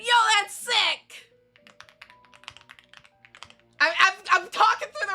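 Fingers patter on a computer keyboard in a quick, irregular run of light clicks, heard alone between bursts of close talking before and after.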